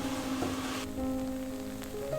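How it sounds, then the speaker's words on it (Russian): Quinoa toasting in a pan and stirred often, giving a steady, dense crackling hiss like light rain, with a faint scrape from the stirring midway. "киноа нужно поджарить, для того, чтобы избавиться от травянистого привкуса. Поджаривать нужно часто помешивая."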